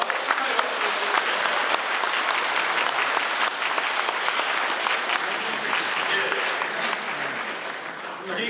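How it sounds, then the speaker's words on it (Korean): Sustained, dense applause from a church congregation at a Catholic thanksgiving mass celebrating a bishop's 100th birthday, loud and steady throughout and tapering slightly at the end. "힘찬 감사와 축하의 박수"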